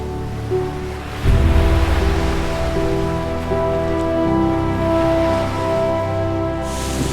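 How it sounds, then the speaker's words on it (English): Rough water crashes against a rocky shore in a continuous, churning roar, with a heavier surge of surf at first, then a sustained wash. "So next is going to be our rough water on a rocky shore."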